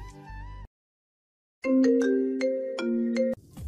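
A phone ringtone sounds as a call is placed, a short melodic tune followed by a pause and then a louder sustained chiming ring pattern with repeating tones, close and clear with no talking.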